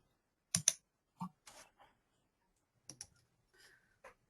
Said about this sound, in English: I can hear somebody typing in.